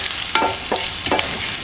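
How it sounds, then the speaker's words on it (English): Finely chopped ginger is stirred into cumin seeds frying in hot oil, a steady close sizzle with three rhythmic scraping strokes of the spoon through the pan. "And then goes in your finely chopped ginger. You stir that in."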